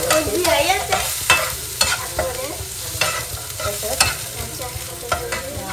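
Spicy marinated fish mixture being stirred in a pan, a continuous busy clatter of spoon scrapes over a steady sizzle. It is close and fairly loud, with no voices.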